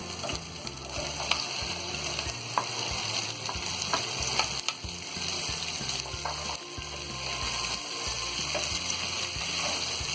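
Okra (bhindi) frying in a pan with spices makes a continuous close sizzle for about ten seconds, with repeated soft stirring knocks and scrapes and no voices.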